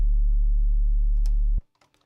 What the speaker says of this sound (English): constant bass, a bass sign.